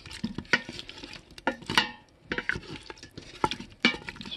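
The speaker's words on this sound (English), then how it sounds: "Give it a good stir." A spoon stirs beef stew with cauliflower, broccoli and carrots in an Instant Pot, giving soft scraping and clinking strokes against the metal pot in irregular bursts, close and fairly quiet.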